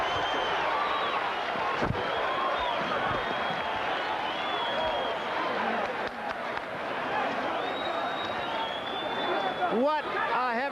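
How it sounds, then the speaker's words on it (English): A crowd at the end of a heavyweight championship boxing fight roars in a loud, sustained wall of cheering and chatter, while excited commentary carries on over the top. "Listen to the crowd."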